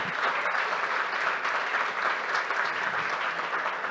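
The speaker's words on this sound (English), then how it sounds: "She deserves a big round of applause." Audience at a startup demo day breaking into a sustained round of applause, dense steady clapping from a crowd with no pauses, filling the whole stretch.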